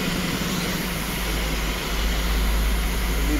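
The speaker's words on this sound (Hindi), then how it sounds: "ये देखें, ये इंजन फ्लशिंग हो रही है।" An engine flushing machine runs during a service on a Kia Sportage at a Petromin service center in Saudi Arabia, giving a steady, loud mechanical hum and hiss that never lets up, with no voices over it.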